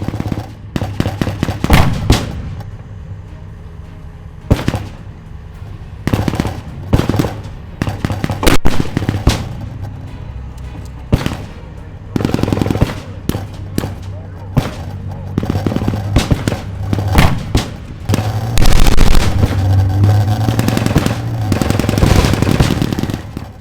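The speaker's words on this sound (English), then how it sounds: "now they're fighting with small arms on their vehicle" Bursts of small arms fire, rapid machine gun strings and single gunshots, crack out close and loud during a Gulf War tank battle reenactment at the Canadian Tank Museum, with faint commentary beneath.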